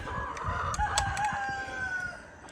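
New Hampshire chickens at a coop on a chicken farm, with a rooster crowing in a long drawn call over steady clucking from the flock, fairly close and loud.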